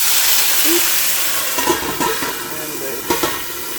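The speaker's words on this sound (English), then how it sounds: "let's fry some burgers" Black bean burgers sizzling and hissing in a hot pan, a steady frying crackle with a few louder spatters and bursts of steam.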